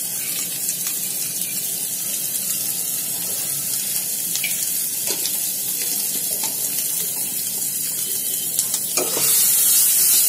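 Pointed gourd peel paste frying with spices in a pan, a steady broadband sizzle running unbroken throughout, with occasional faint clinks and scrapes of stirring and a slight rise in hiss near the end.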